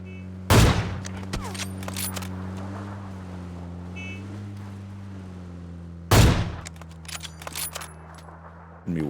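PUBG gunfire: two sharp, loud single shots several seconds apart over a steady droning engine hum, with a faint crack at the very end.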